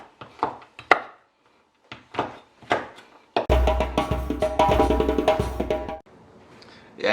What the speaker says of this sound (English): It is the Dairy Milk Fruit and Nut. And all we're doing is giving that a chop.